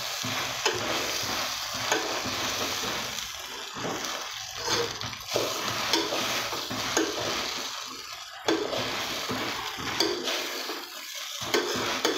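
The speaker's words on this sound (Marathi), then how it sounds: "आता त्यांना मस्त एकजीव करून घ्यायचं आहे." Poha is stirred and mixed in a pan, with a spoon scraping and turning the flattened rice in steady strokes over a soft sizzle, close and fairly loud, no talking.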